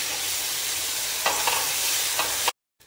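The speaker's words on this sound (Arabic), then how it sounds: "الحين نخلط مع بعض" Roasted eggplant with mashed garlic, paprika, curry spices and salt is stirred together, soft scrapes and a thud or two over a steady hiss before the sound cuts off abruptly.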